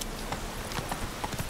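Horse hooves clip-clop at a steady trot in The Witcher 3 on PC, a quiet, even rhythm of hoofbeats heard alone.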